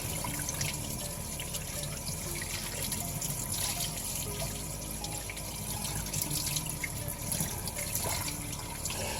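A regular household faucet runs steadily as a K&N air filter is rinsed beneath it, water splashing and trickling continuously at close range with no voices.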